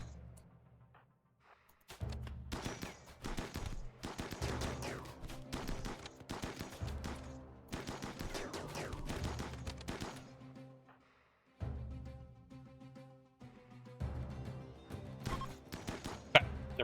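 Video game gunfire comes in loud, rapid bursts of shots and fusillades, with short pauses between volleys and a brief lull near the middle.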